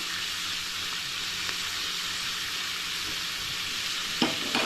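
Onion sautéing in a pan for an instant chicken curry, a steady close sizzle and frying hiss running throughout, with a faint clink or stir near the end.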